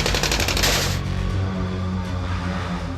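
Rapid bursts of gunfire in Afghanistan, sharp and dense in the opening second, then thinning into a loud, rumbling, echoing barrage that continues to the end with no talk.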